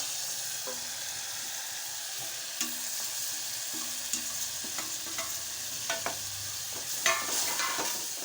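Moong dal tempering with spices frying in hot oil, a steady close sizzle with occasional sharp pops and spatters and light stirring clicks from a spoon in the pan.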